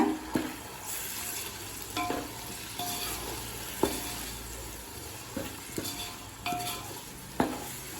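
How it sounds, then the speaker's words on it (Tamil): Onions and tomatoes sautéing in a pan for chicken biryani, a steady sizzle broken by repeated clanks and scrapes of a spoon stirring against the pan, with no talk. "நல்லா பச்சை வாசனை போக வதக்கிக்கலாங்க"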